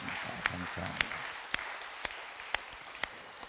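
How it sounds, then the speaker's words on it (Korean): A congregation at a Sunday church service claps in encouragement, a soft, distant patter with a few sharper claps standing out, while a low voice murmurs faintly beneath it. "박수로 격려하며 하나님께 영광 올리겠습니다"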